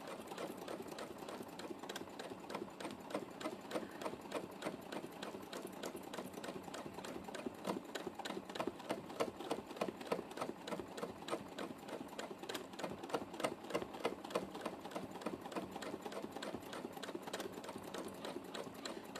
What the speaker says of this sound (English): I can then stitch in black thread or whatever colour thread it is.